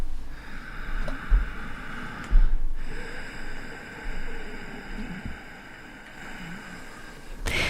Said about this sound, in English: it's a gentle constriction of the throat